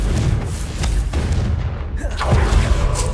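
A Confringo fire spell from Hogwarts Legacy detonates with a loud, booming blast over a dense rumbling game soundscape, with a second sweeping burst near the end.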